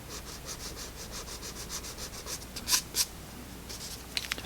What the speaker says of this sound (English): and I will use my pencil eraser